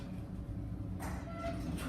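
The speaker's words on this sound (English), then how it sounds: "If the door will close, there it goes." A Schindler hydraulic elevator door, installed in 2008 in a professional centre in Burlington, slides shut with a soft rumble and faint clunk under a steady low machinery hum.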